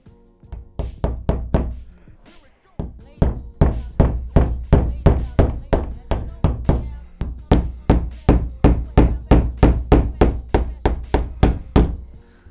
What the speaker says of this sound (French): Faut mettre un clou à 22 de chaque côté.